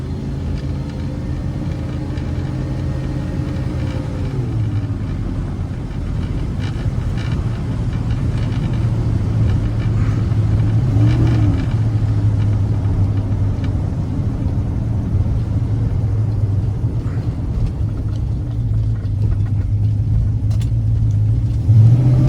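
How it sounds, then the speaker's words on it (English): A 1966 Pontiac GTO tribute with a 455 engine and turbo 350 transmission accelerates, its deep V8 rumble dropping as the gear changes early on, then pulling hard and loud with a steady low drone. "Plenty of power in this 455, gets up and goes."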